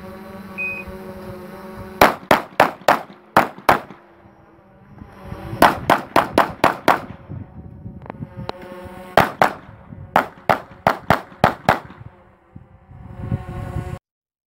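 Pistol shots ring out at an IPSC practical shooting stage as the shooter moves uprange while backing up, coming in loud, sharp bursts of rapid strings with short pauses between groups.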